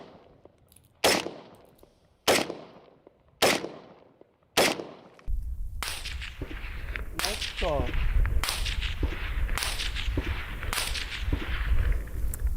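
Unsuppressed 5.56 rifle fire heard downrange: several sharp, separate cracks at first, then a denser run of shots with overlapping supersonic snaps and booming reports over a low rumble.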